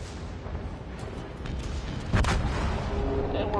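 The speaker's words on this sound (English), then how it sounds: "And we're blown up." A warship blowing up in a naval battle video game: a sharp, heavy blast at about 2.2 seconds rises out of a steady rumble of gunfire and engine noise, followed by sustained booming.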